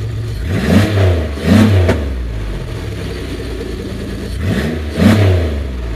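An urban destruction derby car with a push-button starter and a stock rev limiter runs close and loud, its engine revving in several sharp bursts over a rough, rumbling idle.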